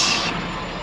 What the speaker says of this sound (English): Re-engaging air brakes.